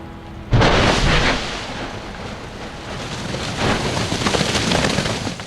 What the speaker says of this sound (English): showing low-energy explosive emission known as strombolian activity, producing fresh scoria remaining nearby the vent